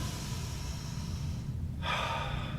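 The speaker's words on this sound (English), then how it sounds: "Now we'll take a deep breath in. Exhale. Big inhale." A deep breath in and a long exhale taken during a gentle guided exercise session, fairly close and steady, with a sharper, brighter breath near the end; no talking.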